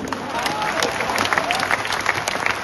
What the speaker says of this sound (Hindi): हमारे इंजीनियर के लिए ताली बजाइए आपने।